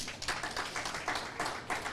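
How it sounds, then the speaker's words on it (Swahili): Audience clapping for a studio owner at a gathering, a short burst of uneven hand claps, moderately close, with no other sounds. "Pigieni yeye makofi"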